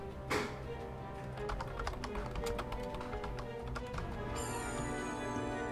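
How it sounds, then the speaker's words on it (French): Computer keyboard typing under game audio during a Wizard101 session, a steady stream of quick taps running throughout over a dense musical backdrop. "Désolé pour mon clavier, hein."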